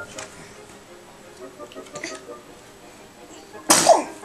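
One sharp sneeze bursts out close and loud near the end after a quiet room with faint ticks and small noises.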